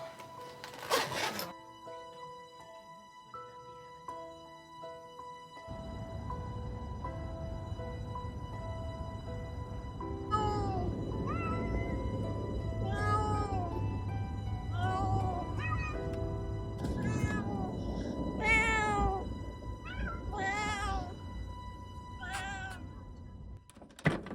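Cats meow repeatedly inside a travel crate, with a string of rising and falling calls over a steady low hum, with a thump and rattle near the start.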